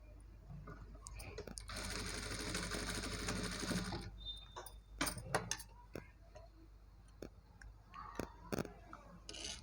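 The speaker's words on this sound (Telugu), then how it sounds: "తిప్పి ఇక్కడ ఒక టాప్ స్టిచ్ వేయాలి" A sewing machine runs steadily for about two seconds while it puts a top stitch on a blouse. A sequence of sharp clicks and handling taps follows as the fabric is adjusted, with faint talk in the background.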